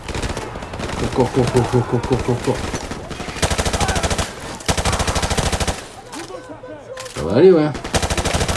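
Automatic gunfire in the video game Call of Duty 4, loud rapid bursts that stop and start, with someone talking in French between and over the shots.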